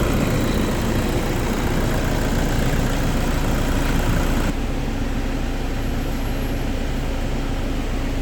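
A Toyota D4D diesel engine running after a valve cover replacement, a loud steady idle with a rough mechanical clatter that continues without talking.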